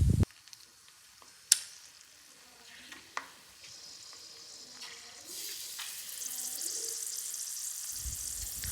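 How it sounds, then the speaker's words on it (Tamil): Wheel chips deep-frying in medium-hot oil, a soft steady sizzle that swells and brightens midway, with a few sharp clinks of utensils early on. "இப்போ பாருங்கள், அந்த வீல் சிப்ஸ் எல்லாம் நல்லா பொரிய ஆரம்பிச்சிச்சு."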